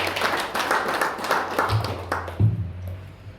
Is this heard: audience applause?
yes